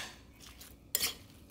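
A spoon or utensil scrapes and clinks against a bowl while tuna ceviche (kinilaw) is mixed, a faint scuff followed by one sharper clatter, close and alone.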